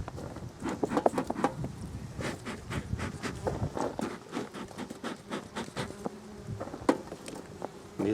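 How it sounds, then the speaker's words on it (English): Honey bees buzz around an open Flow Hive during a frame inspection, a close, continuous drone broken by scattered clicks and soft handling knocks, with no voices. "These are really calm bees"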